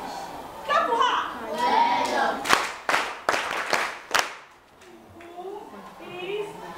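A classroom of young children claps for a classmate, several sharp scattered claps in a short burst amid children's chatter, with a teacher's voice before and after.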